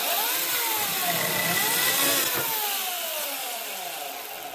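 A repaired electric chainsaw cuts through wood clamped in a small vise, a loud, steady motor whine with shifting pitch as the chain bites, continuous and close for several seconds with no talking.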